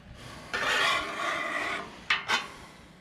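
Cloth wiping across a hot Blackstone griddle, a long raspy rubbing stroke followed by two quick short swipes, close and moderately loud with no talk.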